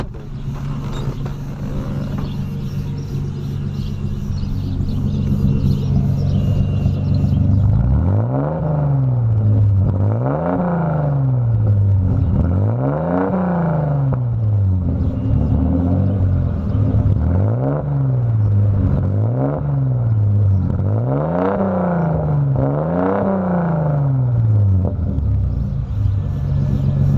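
Audi 80 wagon engine idling at the exhaust, then revved about seven times in an even rhythm, each blip swelling and dropping away in a loud, close, rumbling exhaust note.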